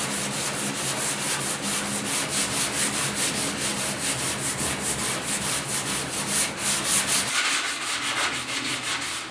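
Steady rubbing and sanding of feather fill filler on the inside of a 1972 Ford 4X4 truck box, a continuous close abrasive scrub with a rhythmic back-and-forth pulse and no voices.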